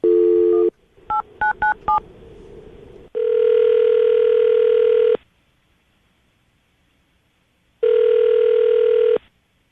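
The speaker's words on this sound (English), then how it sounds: "I'm going to call her right now, see if we can get her on the phone" Outgoing phone call placed from a radio studio: a dial tone, then a quick run of DTMF keypad beeps, then two long ringback tones with a pause between them, loud and clear with no talking.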